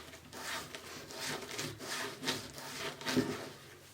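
Fabric being ruffled and tucked by hand for a fall wreath, a soft close rustling and rubbing that comes in repeated short strokes, alone and fairly quiet.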